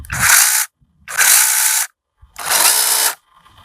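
A Procraft PKA44 battery mini chainsaw with chain fitted buzzes loudly in three short bursts of about a second each, with brief quiet gaps between, close up and high-pitched.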